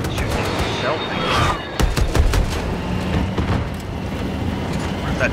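Shell blasts and rattling gunfire in Battlefield 2042 form a dense, continuous battle din, with sharp reports clustering near the middle, while a player talks over the action.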